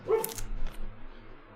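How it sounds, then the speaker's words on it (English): A sleeping dog lets out soft muffled whimpers and yips while dreaming indoors, a few brief close sounds followed by quieter breathy murmurs. "And I apologize if you hear a dog in the background."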